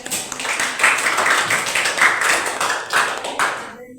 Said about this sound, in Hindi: ताली लगाओ इसके लिए।